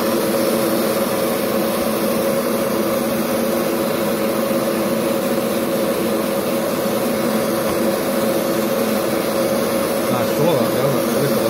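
A portable airbrush spray booth extractor fan pulls air steadily through its filter, giving a constant whooshing hum from start to finish with no change in level.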